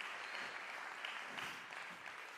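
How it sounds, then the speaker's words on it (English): An audience applauds student jazz performers at a jazz night, a dense, steady wash of clapping heard alone at moderate volume. "can I have a round of applause for our magnificent students here?"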